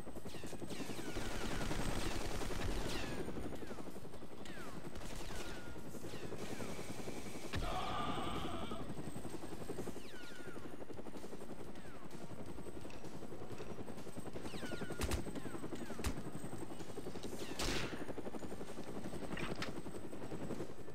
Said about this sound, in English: Where's the helicopter?